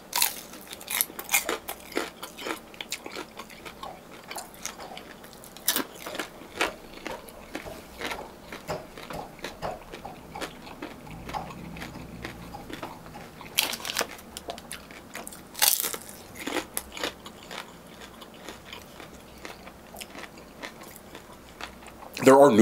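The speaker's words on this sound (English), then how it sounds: "Hold on. This is going to crunch." Crunchy pork dumplings with a wasabi glaze, at a Korean fried chicken restaurant, bitten and chewed up close: repeated sharp crunches and wet chewing in an uneven rhythm, with faint voices in the background.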